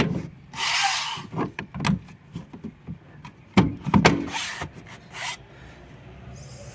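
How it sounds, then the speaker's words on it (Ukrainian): A series of plastic rubbing and scraping sounds, followed by a few sharp clicks and snaps as the third brake light cover on a Renault Megane 3 is pressed into place, close up. "потрібно почепити кришку на місце кришка чіпляється так само легко, як і знімається"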